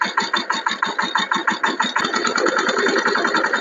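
A power tiller engine on a farm, rigged as a homemade jugaad for field work, chugs loudly and close with a rapid, even pulsing rhythm that blurs into a continuous drone.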